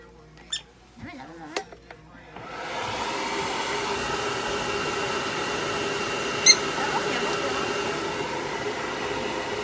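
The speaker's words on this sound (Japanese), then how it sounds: "ドライヤードライヤー。" A hair dryer blowing on a pet prairie dog switches on after a few quiet seconds with brief voices, then roars steadily and loudly up close with a continuous airy whoosh.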